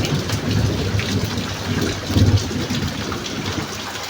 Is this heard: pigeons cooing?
no